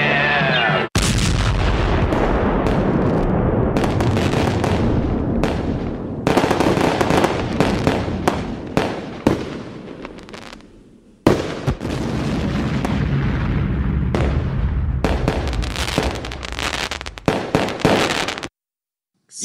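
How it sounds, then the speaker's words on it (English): Old 1960s stock footage of Fourth of July and New Year fireworks, loud repeated bursts and crackling booms coming in rapid, irregular volleys with brief gaps between them, no voices. "With, stock footage of fireworks. 4th of July, Happy New Year fireworks."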